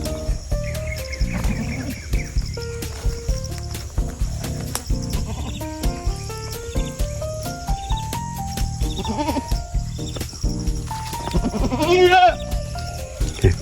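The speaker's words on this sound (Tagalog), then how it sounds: "kukunin natin yung kambing. Ilagay natin dun sa talian niya" Goat bleating on a farm amid a busy, layered background of other animal calls and sounds, fairly close and steady throughout, with brief voices in the mix.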